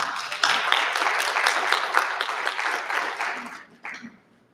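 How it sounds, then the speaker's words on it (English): An audience at a township school board meeting breaks into steady applause that holds for about four seconds, then thins out and fades with a last few claps. "I just want to applaud this young man"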